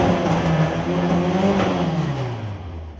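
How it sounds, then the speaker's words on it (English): A Ford Escort Mk1 with an ST170 engine on a dyno revs up toward 5000 rpm, the engine note climbing and holding close and loud, then falling away as the revs drop. "So now I'll just rev her up to 5k and we'll see what happens"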